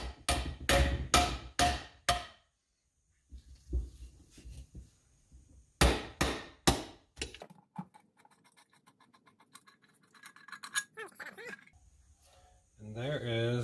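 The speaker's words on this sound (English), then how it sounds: "So all I'm doing is hitting that nut using this wood." A power steering pump nut on a Chevy K20 is struck through a wood block, giving two clusters of four or five sharp, loud knocks separated by quieter shuffling and scraping.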